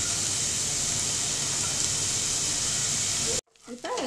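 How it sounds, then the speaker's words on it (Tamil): A large onion sizzling as it sautés in a pan, a steady loud hiss that stops abruptly near the end before a voice comes in. "இப்போ ஒரு pan எடுத்துக்கலாம் இதல வந்து நான் வெங்காயம் போடுறேன் ஒரு பெரிய வெங்காயம் இந்த வெங்காயம் வதங்கட்டும்"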